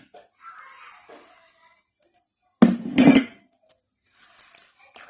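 Pancake batter being mixed with sugar in a bowl, heard as a short burst of clinking and scraping against the bowl in the middle, with quieter faint clatter before and after.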